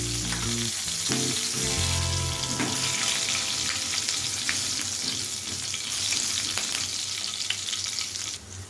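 Nigella seeds and chopped green chillies fry in hot oil with a dense, steady sizzle and a few stirring knocks early on, heard up close without any voices.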